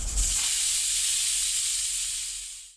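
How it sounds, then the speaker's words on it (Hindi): Steam hisses steadily from a pressure cooker whistle on a stove at medium-high flame while rice, eggs and potatoes cook inside, a loud continuous sizzling rush that slowly tapers off toward the end. "बस आपने यहाँ पर मीडियम हाई फ्लेम पर 1 सीटी लगानी है"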